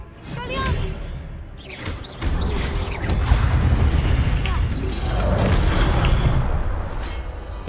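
A disarming spell cast in the Hogwarts Legacy video game, a sudden whooshing burst followed by a deep rumbling boom and sustained magical impact noise, with game voices heard briefly before the blast.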